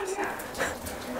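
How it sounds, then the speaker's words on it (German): A jealous dog whimpers and yips in a brief, high, strained cry, close by, with people talking over it. "Da ist einer eifersüchtig."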